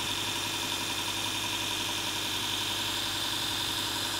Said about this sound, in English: This is why I don't use the grinding wheel on my bench grinder.